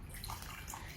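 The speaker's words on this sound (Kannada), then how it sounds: "ಅದೇ ಬಿಸಿ ನೀರು ಹಾಕ್ತೇನೆ" Hot water is poured into a heat-activated magic photo cup: a brief, soft, steady splashing trickle with no talking.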